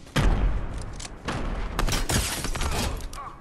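Grenades go off in Fortnite gameplay, several loud booming blasts and crackling bursts in quick succession, with faint talk in the mix.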